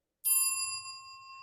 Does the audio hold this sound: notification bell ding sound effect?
yes